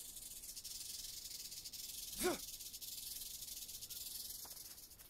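Snake in a jungle of the survival game Green Hell, a single brief hiss partway through over a steady, faint backdrop of insect and forest ambience.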